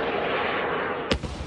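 Air defense fire brings down a drone over Kyiv: a single sharp, loud bang cuts through a steady rumbling background near the end, followed by a brief fading echo.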